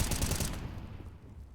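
Rapid automatic gunfire rattles in a competitive esports shooter match, a loud burst of rounds that cuts off quickly and leaves a fading echo.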